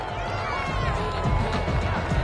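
A home stadium crowd at a Jacksonville Jaguars vs Houston Texans football game reacts to a referee's call with a loud, continuous wash of cheering and roar that swells slightly near the end.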